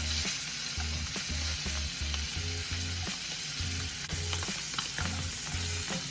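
Squash blossoms sizzle and wilt in a hot pan beside pan-seared scallops, with the heat just turned off. Frying hiss runs steadily throughout, broken by a regular low thumping pulse.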